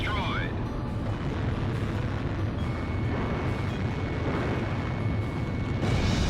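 A destroyed SAM site blows up in the air-combat video game Ace Combat Zero, a sustained low rumbling explosion that fills the whole stretch, with a brief rising whine at the start and game voices mixed in.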